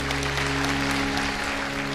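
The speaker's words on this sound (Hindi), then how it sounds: "ताली बजाओ इनके लिए" An audience claps at a Hindu religious discourse gathering, a dense steady wash of applause layered over a constant low droning tone.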